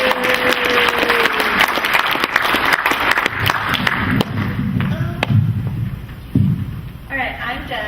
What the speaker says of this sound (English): So let's first give them a round of applause.